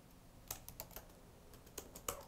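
Fingers tap out a short word on a computer keyboard, a quick burst of sharp, uneven key clicks up close with brief pauses between strokes, quiet room and no voices.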